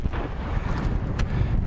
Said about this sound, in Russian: Ветер сейчас начался жесткий.